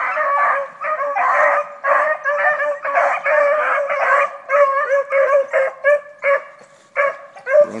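Hunting dogs baying while chasing a rabbit in a field trial, a loud, close chorus of repeated bawling howls and yips in an irregular rhythm, rising and falling with no talk.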